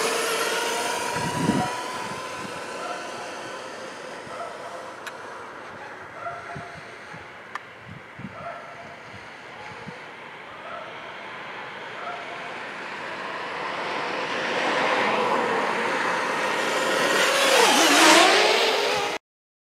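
A Traxxas Slash 2WD RC car with an XL-5 system drag races a DJI Mavic Mini drone flying in sport mode. A steady motor whine and rushing air swell and grow louder toward the end. Faint scattered knocks come before the swell.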